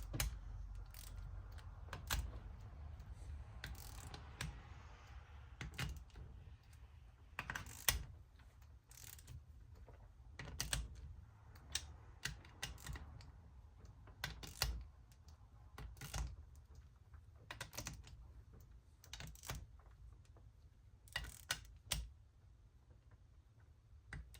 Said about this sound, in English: now we're gonna be torquing them down